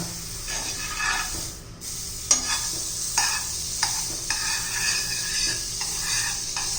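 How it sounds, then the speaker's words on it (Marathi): Butter sizzling and frying in a hot pan for egg bread patties, a steady hiss with stirring scrapes and small clicks throughout, close and moderately loud, no talking. "आपलं पॅन आता गरम झालेला आहे हे पहा आपण आता त्याच्यावर बटर टाकून घेऊया"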